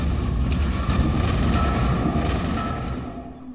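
A sustained, heavy rumbling roar with dense low-end energy, like distant explosions rolling together, steady and loud throughout before easing slightly at the end.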